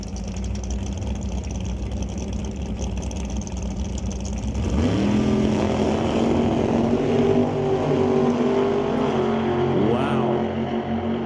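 A drag race launches at Mission Raceway Park, including Andy Hatton's green Camaro known as the Grinch. A steady outdoor drone gives way halfway through to a loud, sustained engine roar that rises in pitch as the cars pull away.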